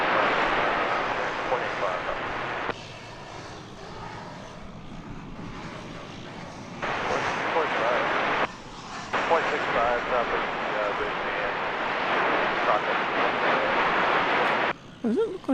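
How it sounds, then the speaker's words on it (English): A Martinair aircraft taxis at DFW Airport, its engine drone rumbling steadily in the background and dipping and swelling, with people talking over it throughout. "As you might be able to hear in the background, one of those Martinair aircraft puttering about."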